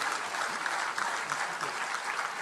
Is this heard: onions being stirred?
no